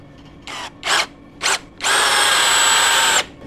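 A battery-powered hammer drill fires three short hammering bursts, then one longer sustained run of about a second and a half, loud and close, with a whining motor tone and no speech.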